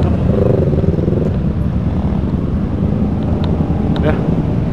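A motorcycle engine runs close by in Bandung, a continuous loud rumbling drone that holds steady throughout with no clear pauses.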